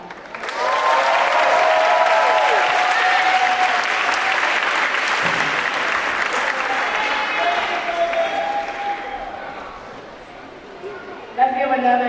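Graduation ceremony audience at Chatham Academy breaks into loud, sustained applause with some cheering, gradually fading away before a voice speaks over a microphone at the end.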